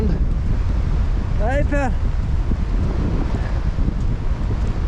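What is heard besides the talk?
wind and surf on a stormy beach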